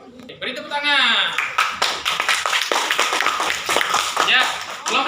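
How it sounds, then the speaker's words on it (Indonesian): Classroom applause in an Indonesian primary school lesson, a burst of many hands clapping together that starts after a brief spoken call and keeps going for several seconds, with voices mixed in. "Beri tepuk tangan."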